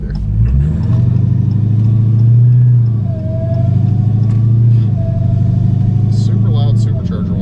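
A stock, supercharged Dodge Hellcat on the move gives a thin supercharger whine over a steady engine drone, with people talking in the car throughout.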